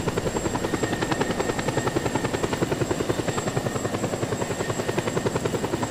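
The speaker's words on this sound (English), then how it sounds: "I can easily get a chopper." A helicopter from the video game Just Cause 2, with steady rotor chop pulsing at a fast even rhythm and an engine whine, loud and close, with no talk throughout.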